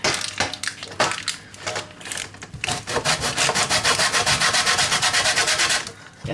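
Several rough scraping strokes of food rubbed against a kitchen grater while baking, a few isolated passes then a fast rhythmic run of rasping strokes, close and loud with no talk.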